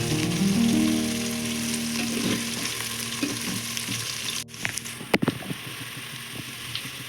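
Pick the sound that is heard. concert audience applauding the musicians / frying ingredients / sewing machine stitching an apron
frying ingredients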